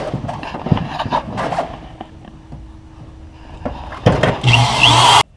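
After some quiet rustling and clunks, a drill fitted with a 1.25-inch hole saw whines loudly for about a second, then cuts off abruptly.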